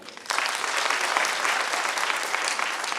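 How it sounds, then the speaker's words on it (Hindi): An audience at a celebration programme in Raipur, Chhattisgarh breaks into dense, sustained applause, which swells in abruptly after a brief quieter moment and holds at an even, full level to the end. "आप सबके लिए जबरदस्त ताली।"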